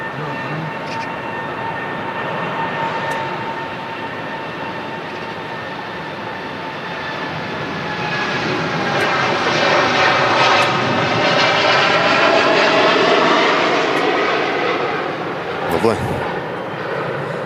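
A Gulfstream business jet passes at Manchester Airport, its engine roar building to a loud broad whine midway and then easing, heard from a spotting position with faint background noise and no talk.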